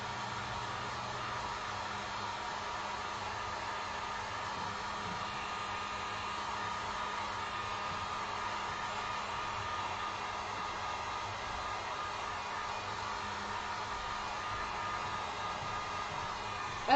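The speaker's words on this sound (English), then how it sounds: "even really with the blow dryer, you don't want to go too high on it" A blow dryer on a low setting drying acrylic paint on a door hanger, giving a steady, even whooshing hiss that runs unbroken and fairly close throughout, with no talking.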